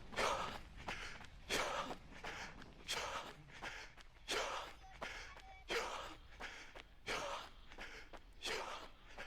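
A runner breathes hard in regular gasping bursts near the finish of a morning race, close and fairly loud, with footsteps beneath.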